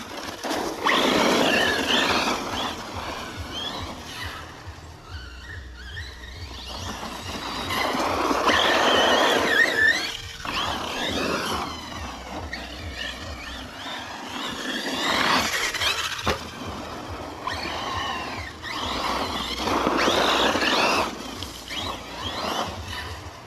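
A Hobao Hyper VS2 6S RC truggy on Corally tyres gets short bursts of throttle in a wood, its motor whining up and falling back in repeated blips, fairly close and loud, with gaps between.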